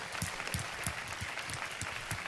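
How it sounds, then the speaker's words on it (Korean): A church congregation claps in rhythm, evenly spaced strong beats about three per second, fairly quiet and somewhat distant, with faint background sound. "주님 앞에 우리 영광의 박수 올려드리겠습니다."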